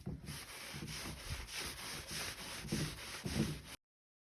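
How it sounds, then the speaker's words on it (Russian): Rhythmic sanding strokes rub back and forth on a wooden speaker cabinet, about eight steady passes, close and fairly quiet, then stop. "Опять шлифовка."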